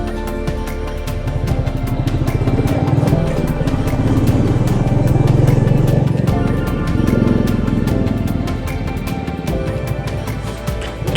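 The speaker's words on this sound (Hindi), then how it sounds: "सुबह के 8:30 बजे हैं और ये ऋषिकेश के बाईपास पे ट्रैफिक है।" Motorcycles and cars in morning traffic on the Rishikesh bypass in Uttarakhand, a loud, close, steady drone of engines idling and revving that swells and eases.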